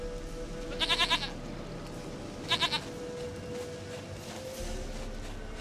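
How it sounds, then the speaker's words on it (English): A goat bleats in The Witcher 3 game world, two short pulsing bleats of a few wavering notes each, fairly close over a steady low ambient hum with no talking. "Goat of mine, dearest, sweetest goat."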